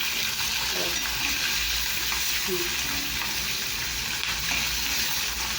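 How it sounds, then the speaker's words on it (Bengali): Fish frying in a pan gives a loud, continuous close sizzle, with a few faint taps as the pieces are turned. "মাছটা উল্টাচ্ছি। ঠিক দেখো কেমন হয়ে গেছে, কি সুন্দর ভাজা হয়েছে।"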